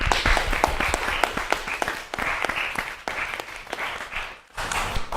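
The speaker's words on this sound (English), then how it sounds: "Let's give a round of applause." Spectators at a startup pitch competition finale applaud the top teams, dense and steady clapping from many hands, loud and sustained with a brief dip near the end.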